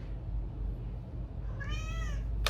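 A pet cat lets out a single clear, drawn-out meow near the end, following a stretch of quiet room noise.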